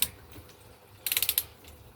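A ratchet tightens a motorbike pulley with a quick burst of about six sharp clicks near the middle, preceded by a single faint click and followed by quiet.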